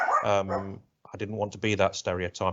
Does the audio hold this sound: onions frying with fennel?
no